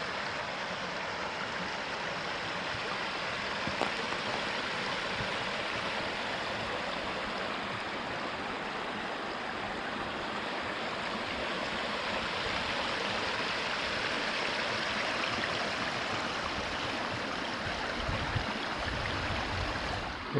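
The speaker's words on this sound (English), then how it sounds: "I made it to Heritage Creek, which flows out of Shell into Heritage Lake. Wow, it's high." Heritage Creek, running high as it flows toward a lake, rushes in a steady, full, even roar of water throughout, close and unbroken, with no voices.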